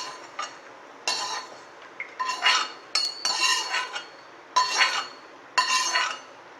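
Ingredients being lightly roasted in a pan for beetroot masala, with repeated metallic scraping and clinking of a spoon against the pan in uneven bursts, close and clear, with no talk.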